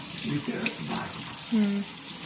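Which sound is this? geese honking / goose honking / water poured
water poured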